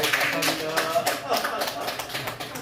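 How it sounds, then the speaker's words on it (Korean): Audience at a Buddhist lecture in Geoje claps together, a dense run of quick, overlapping hand claps filling the hall, with voices mixed in. "자, 박수 한번 부탁드리겠습니다"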